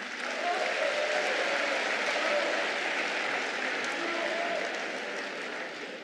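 A large crowd at the PDCI-RDA party congress in 2023 applauds and cheers in a steady, dense roar of clapping and voices that holds throughout and fades slightly at the end.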